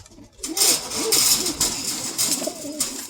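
Pigeons, including a red pepperhead cock, coo in soft, repeated low rolling phrases over a steady background hiss, fairly close, with a few separate calls across the stretch.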